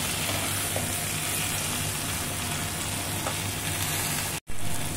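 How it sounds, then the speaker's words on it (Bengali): Olives simmering with sugar in a pan for a sweet-sour pickle, a dense continuous bubbling sizzle, close and steady, with a momentary cut near the end. "এবার চিনিটা গলবে আস্তে আস্তে, আর জলপাইগুলো সুন্দর করে সিদ্ধ হবে"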